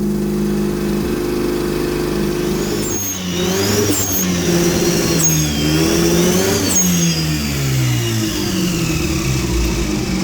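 A Datsun 1200 fitted with a 12A turbo rotary engine idles with a loud, buzzing drone, then revs up and down in several quick rising and falling bursts before settling back to a steady idle, close and alone.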